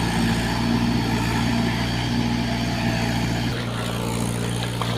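A tractor engine idles on a farm with a steady, loud, continuous low rumble and drone, nearby and unchanging apart from a brief dip in tone partway through.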